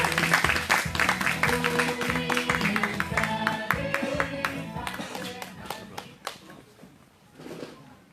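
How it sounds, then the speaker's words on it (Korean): A crowd applauds steadily at an outdoor anti-THAAD protest rally in Soseong-ri, dense clapping filling the space, with some music and voices mixed in, gradually thinning out toward the end. "큰 박수로 맞아주십시오"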